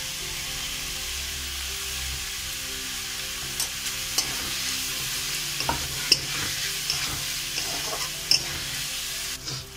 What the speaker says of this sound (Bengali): দিয়ে মশলাটা ভালো করে কষিয়ে নিতে হবে।